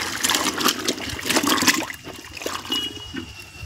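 Water sloshes and splashes loudly for a couple of seconds as shirts are swished in a tub of rinse water, then settles into softer trickling and drips.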